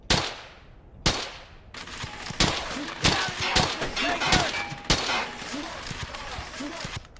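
Machine gun fire in Brothers in Arms: Hell's Highway: repeated loud bursts and sharp shots crack close by over several seconds, with metallic clangs and faint voices mixed in.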